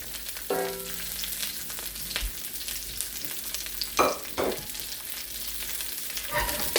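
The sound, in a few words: sauteing cabbage and vegetables for jap chae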